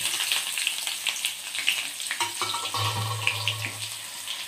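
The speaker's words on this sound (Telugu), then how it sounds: "ఇందులోకి కరివేపాకు అవి వేసేద్దాం." Curry leaves and dried red chillies hit hot tempering oil already holding mustard and cumin seeds, a steady close sizzle with crackling pops and a low stove hum beneath, no voices.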